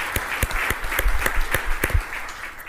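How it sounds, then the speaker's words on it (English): At a fall conference, an audience gives a round of applause, with dense, even clapping from many people that tapers off toward the end. "please give them a round of applause for"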